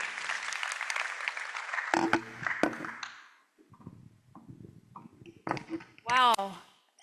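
An audience breaks into applause after a speech at the AUEU Youth Lab kickoff ceremony in Addis Ababa, a dense burst of clapping for about three seconds that fades, followed by a speaking voice over a PA system.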